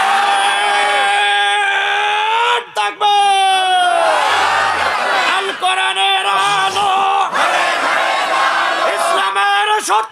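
A large crowd at an Islamic religious gathering roars a loud, sustained takbir response in unison, voices swelling in long shouted waves with brief dips between calls.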